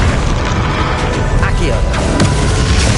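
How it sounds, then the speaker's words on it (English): A Bombarda blasting spell goes off in Hogwarts Legacy as a loud, booming explosion with a dense rumbling burst that fills the whole moment, mixed with other game effects. "You think you can stop me? Bombarda."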